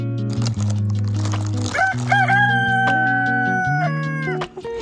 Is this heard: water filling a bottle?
no